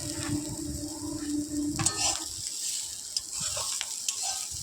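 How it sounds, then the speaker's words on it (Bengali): Potatoes and brahmi greens fry together in a pan, a steady close sizzle with a few light clinks of a utensil and no talking. "দেখো আলু আর ব্রাহ্মণ শাক একসাথে ভাজা"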